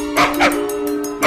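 A frightened puppy gives short yips and whimpering barks in quick bursts, close and fairly loud over a steady background hum.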